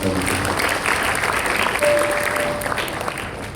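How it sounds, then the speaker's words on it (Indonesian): A church congregation applauds during a Christmas sermon, a steady dense wash of clapping that fills the whole stretch at even loudness, with a faint thin tone running briefly through the middle. "Kita berikan tepuk tangan dengan sekali."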